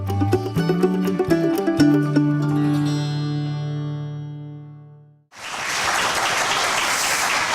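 An audience at a concert-style health policy event bursts into steady, full applause for three guests after a sustained musical passage with struck tones fades out, and the clapping runs on loudly to the end.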